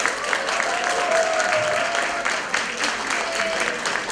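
Continuous applause from a conference audience at a women's federation event in Europe, dense and even throughout the four seconds, with faint voices mixed in.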